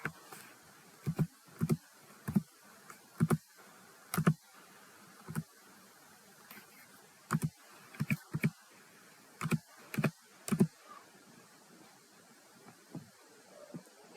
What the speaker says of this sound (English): Here I type 3, 6, 9, 12, and 15 in the text box of Specify